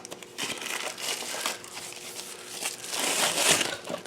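Packing tape being peeled and torn off product packaging while unboxing a Pandigital S8X1102rd: a continuous close crinkling and ripping rasp with uneven surges, rising toward the end.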